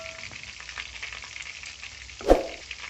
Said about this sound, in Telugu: ఇప్పుడు చికెన్ క్రిస్పీ పకోడీ ఫ్రై అయిందండి.